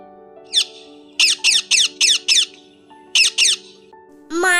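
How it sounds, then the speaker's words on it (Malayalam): A parrot gives a rapid series of sharp, shrill squawks, about nine short bursts in uneven clusters, loud and close, ending on a longer harsh call. "തത്ത."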